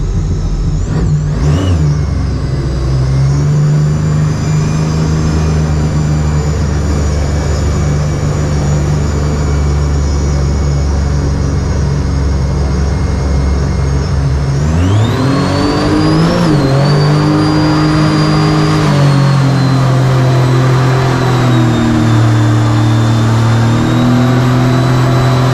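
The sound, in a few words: mini jet boat engine revving on the water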